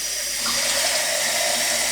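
Water is poured into a baking mix from a measuring jug in a steady, close splashing stream that grows slightly fuller partway through.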